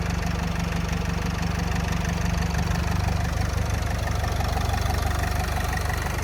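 A 2012 Renault Trafic van's 2.0-litre diesel engine idles steadily up close, a continuous low rumble with a faint knocking rhythm and no talking.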